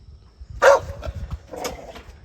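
A dog in Kerala gives one sharp, fairly close bark, followed by a few softer barks and whimpering sounds over low background noise.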